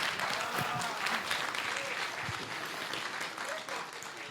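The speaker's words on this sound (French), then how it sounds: "j'appelle donc Nicolas Tarnot, sous vos applaudissements, s'il vous plaît." A conference audience applauds to welcome a guest speaker onto the stage at an evening master class, a steady dense clapping that fills the room without pause for several seconds.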